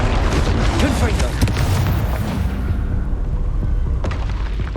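A Confringo spell blasts in a Hogwarts video game, a loud, rumbling explosion with a sustained roar that fades slightly toward the end.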